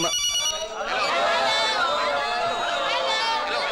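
A phone ringtone rings continuously and fairly loud over background chatter and a busy crowd murmur.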